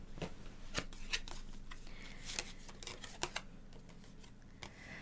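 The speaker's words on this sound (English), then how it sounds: "Let me pull a couple cards, get more clarity on the clarity coming in this light." Tarot cards being pulled and shuffled, a close, crisp run of riffling flicks and sharp slaps with uneven rhythm, soft in level, and no talking over it.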